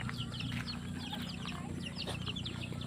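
Several chickens cluck and chirp in quick overlapping bursts close by, a busy farmyard chatter running steadily throughout without a break.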